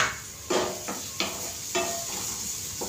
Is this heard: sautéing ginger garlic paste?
yes